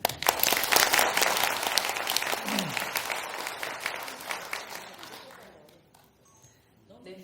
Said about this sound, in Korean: 큰 박수 다시 한번 부탁드릴게요